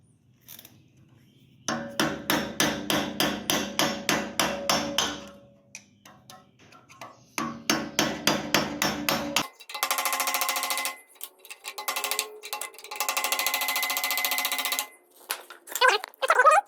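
Repeated metal-on-metal hammering on an old Onan generator, a crowbar set on a stuck part's lip and struck in fast rhythmic bursts of blows, close and loud, separated by short pauses, with no speech.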